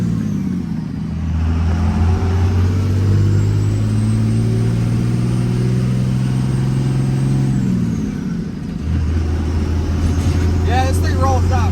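A pickup truck with a 6.7 engine drones loudly and close, climbing in pitch through gear changes, dropping off briefly, then picking back up; a short voice cuts in near the end.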